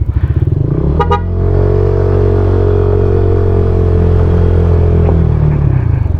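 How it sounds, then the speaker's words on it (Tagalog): A loud, sustained motorcycle horn blares for several seconds after a brief stutter of short honks, steady and very close, after rewiring. "Mas lumakas pa yung mga busina niya ngayon compare nung bago ko siya idala."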